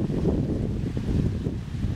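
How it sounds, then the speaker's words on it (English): Wind blowing over Crotch Lake, a steady low rumbling roar that buffets the microphone continuously for the whole stretch, with no voices. "Wind is beginning to die down now in this crotch lake."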